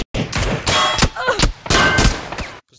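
Loud, close video game gunfire in rapid bursts, several heavy volleys of shots crackling one after another with brief gaps between them.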